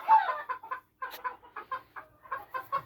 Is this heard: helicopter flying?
no